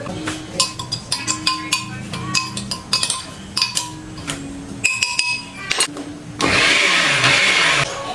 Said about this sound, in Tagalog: Ibe-blender naman natin siya.